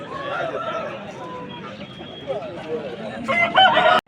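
A rooster crows loudly near the end amid clucking fowl at a busy chicken market in Vijayawada, where aseel roosters are sold, with people talking in the background throughout.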